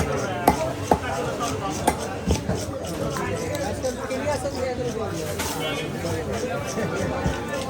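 Fish being chopped into pieces at a village market: sharp cleaver strikes land irregularly against a board, with voices and crowd chatter running continuously underneath.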